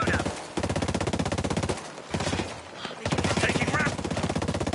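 Video-game gunfire from hostile enemies: rapid, machine-gun-like bursts, loud and close, rattling in a steady rhythm with brief gaps between volleys, with faint voice-like sound mixed underneath.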